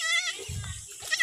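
A young goat kid gives a short, wavering bleat close by, with a little low rustling under it.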